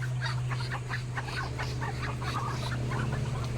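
Large farm ducks give a run of quacking calls at fairly close range, repeated in an uneven series over a steady low hum from nearby machinery or a fan.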